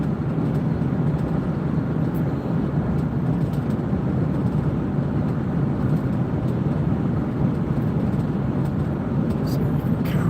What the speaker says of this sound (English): just with the sound of the motor and all the cars going by